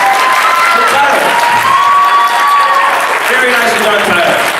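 Loud audience applause and cheering for a contestant at a convention voice acting panel, steady throughout, with voices calling out over the clapping.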